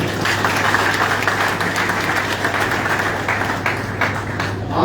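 An audience at an anti-drug seminar claps in a dense, steady wash of applause, loud and sustained throughout, over a constant low hum.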